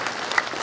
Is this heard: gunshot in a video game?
no